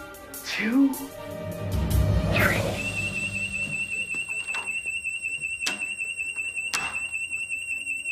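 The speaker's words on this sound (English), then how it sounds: "on the count of three, I'm going to turn on the fire alarm" Fire alarm switched on indoors: after some shuffling and a thump, a piercing electronic alarm tone starts and keeps sounding steadily, loud and near, with a couple of sharp clicks over it.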